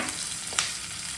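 Cumin seeds fry in a hot pan for a Karnataka-style obbattina saaru, giving a steady soft sizzle with one brief crackling pop, close and continuous, with no talking.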